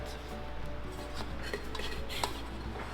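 Oiled dough for ube cheese pan de sal is scraped around a bowl, producing soft rubbing with small clinks and taps of a utensil against the bowl, close and quiet.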